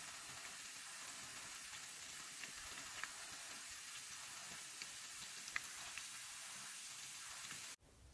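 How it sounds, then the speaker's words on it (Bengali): Potato chips frying in a pan give a steady, close crackling sizzle with scattered small pops, continuing evenly for several seconds before cutting off abruptly at the end. "চিপগুলো ফ্রাই হতে হতে"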